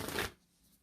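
A single card drawn from a numerology deck, one brief soft papery swipe that fades quickly into near silence.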